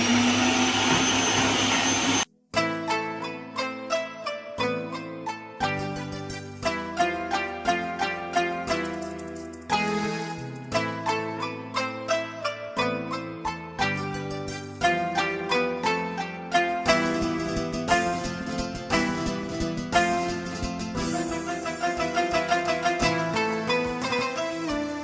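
A food processor blends a Syrian kibbeh mixture with onion in one loud, close motor whir that lasts a couple of seconds. After it cuts off, music plays for the rest of the time.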